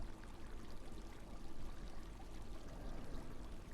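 Steady running water from a drinking fountain in the research facility of the video game Abiotic Factor, a continuous close pour with a constant level, heard alone.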